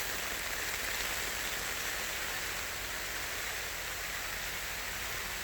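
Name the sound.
heavy rain pelting down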